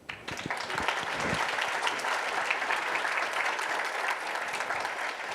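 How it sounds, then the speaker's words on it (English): An audience at a scholarship coronation applauds its sponsors with steady, dense clapping that fills the room at moderate distance and holds evenly throughout. "Please give them another round of applause in appreciation of their support."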